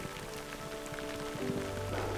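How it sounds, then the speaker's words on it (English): Steady rain falls in a canyon near a cave, a soft continuous hiss of drops on surfaces with a low hum running underneath, moderately quiet and unbroken throughout. "it's so bloody beautiful out here in the rain"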